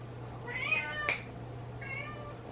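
A cat meows twice in the background of a home kitchen during sourdough bread making, first a longer wavering call and then a shorter one, fairly faint over a steady low hum with no talking.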